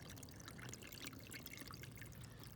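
Water pours and trickles steadily into a yard catch basin drain, a continuous broadband rush with no break across the clip, fairly quiet and with nobody talking.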